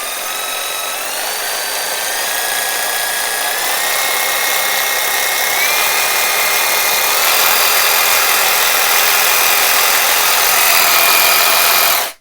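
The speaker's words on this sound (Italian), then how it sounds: "Adesso lo accenderò alla velocità minima e dopodiché lo porterò gradualmente fino a 6." A cordless brushless jigsaw for wood and metal, 20V, running without cutting from lowest speed and raised gradually, its loud whine climbing in pitch in smooth steps and holding steady before cutting off abruptly.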